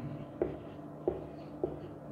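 A pen writes by hand on paper, giving faint scratching strokes with three distinct taps roughly every half second over a low steady room hum.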